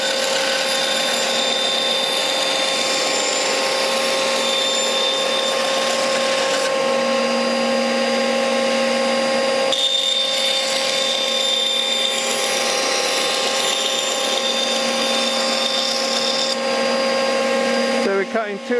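A bandsaw runs continuously in a workshop with a dust extractor roaring alongside it, a steady loud machine drone with tonal whine that holds for the whole stretch and cuts off abruptly at the end.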